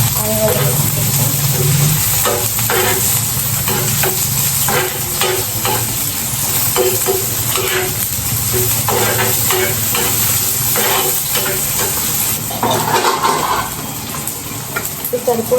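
Onions and tomatoes fry in a pan set on a clay stove, sizzling loudly and steadily throughout, with repeated scraping stirs and a faint voice now and then.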